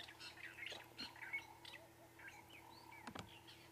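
A drongo calls at a sunrise safari in the African bush: scattered squawks and chirps with a sharp burst near the end, heard at moderate distance against a quiet outdoor background.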